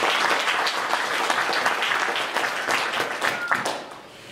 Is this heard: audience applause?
yes